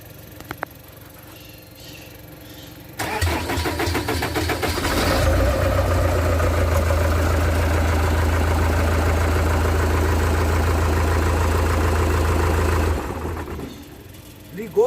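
A platform tow truck engine cranks and catches, then runs at a steady, loud idle close by with a strong low rumble for about eight seconds before shutting off; a few faint sounds come before and after.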